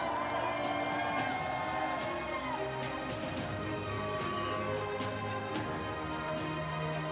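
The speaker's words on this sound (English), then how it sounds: "Let's make a big round of applause." Crowd applauds and cheers steadily for the podium finalists at an evening timbersports championship in Budapest, a dense wash of clapping with scattered whoops and shouts throughout.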